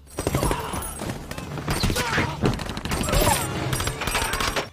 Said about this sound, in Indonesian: anak buahnya mulai menembakkan senjata yang membuat teman-teman Quinn membalas tembakan tersebut dan terjadilah baku tembak.